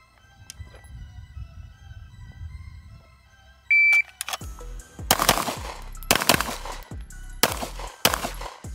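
Staccato P pistol fired in an accelerator drill: after a quiet stretch and a shot-timer beep, a rapid string of loud, sharp gunshots cracks out in quick pairs and singles.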